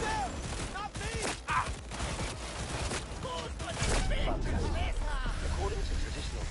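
Rapid bursts of gunfire in the Cyberpunk video game crackle under excited speech and voices, with dense overlapping shots and clatter through the whole passage.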